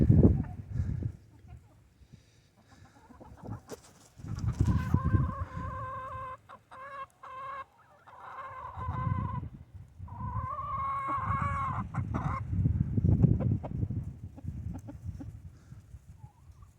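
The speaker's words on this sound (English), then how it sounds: "Chickens will eat just about anything." Farm chickens cluck and call in short bursts near the microphone, a rooster-like crowing rising in the middle, alternating with low rumbling background noise and a person speaking.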